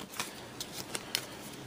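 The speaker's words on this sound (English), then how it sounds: "Whichever ones of these are not chosen are going to be shuffled back into our main deck of colonist cards." Colonist cards from the Affliction: Salem 1692 board game are shuffled back into the deck, a quiet run of soft riffling flicks and taps close by, with no talk.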